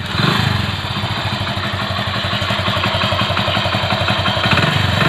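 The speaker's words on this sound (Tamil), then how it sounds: "பார்த்தீங்கன்னா வண்டி ஸ்டார்ட் ஆச்சு." A motorcycle engine runs and idles with a fast, even mechanical chug right after a starting-coil replacement. It stays loud and steady throughout, with no voices.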